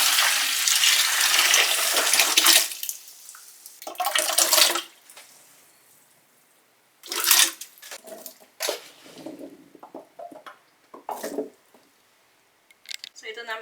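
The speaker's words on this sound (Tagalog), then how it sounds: "We are going to put water. Mineral water yung ilagay natin." Mineral water poured into a jar holding spices for olives, with bursts of splashing and gurgling broken by quiet gaps, then softer trickles and drips, close and fairly loud.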